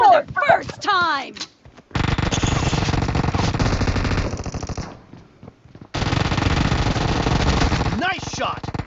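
Rapid automatic spray fire from UZI and Vector guns in a PUBG team deathmatch, long dense bursts filling most of the moment, with brief game voice lines and effects around them.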